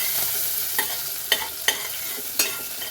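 Ginger sizzles in hot oil as it is sautéed in a pan, a steady frying hiss broken by three or four sharp scraping strokes of a utensil stirring, close and alone.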